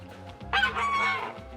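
A farmyard rooster crows loudly and close by on a rainy January day, a single drawn-out call preceded by low clucking from nearby chickens.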